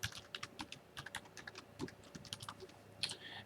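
Fast, close keyboard typing as a URL, username and password are entered for a Mobotix camera, with a continuous run of light, crisp key taps and no voices.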